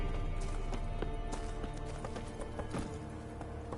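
Roach the horse runs in The Witcher 3 next-gen, hooves clip-clopping in a steady rapid rhythm over a dense game soundscape, with sharp hoof strikes standing out throughout.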